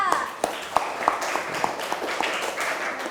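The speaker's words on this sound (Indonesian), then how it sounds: "tepuk tangan dulu buat Rafa" Schoolchildren applaud a classmate with a scatter of separate claps, uneven and fairly close, while someone keeps talking over them.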